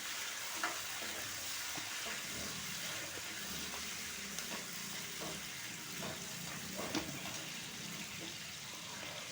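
Green chillies and curry leaves frying in oil for fried rice, a faint continuous sizzle with occasional soft stirring scrapes and no one talking.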